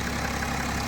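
BMW 335d diesel engine idling, a steady, even low rumble heard briefly and fairly quietly with no voices.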